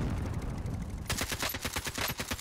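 Rapid gunfire in a Call of Duty Warzone match, starting partway through as a dense run of sharp, evenly spaced automatic shots at moderate distance, following a low rumbling bed of game sound.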